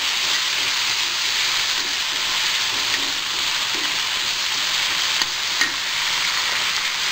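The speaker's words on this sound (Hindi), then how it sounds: "टमाटर डाल के अच्छे से मिक्स कर लेंगे इसको" Tomatoes stirred into onions frying in a pan for arbi sabzi give a steady, loud sizzle and hiss, with faint scrapes of stirring under the constant frying noise and no talking.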